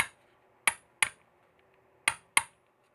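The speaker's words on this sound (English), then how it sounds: "With the hammer, slightly tap," Four sharp hammer taps on metal seating a part flush during Honda Pilot 3.5 valve clearance work, ringing briefly, arriving in two quick pairs with a pause between, close and clear against a quiet background.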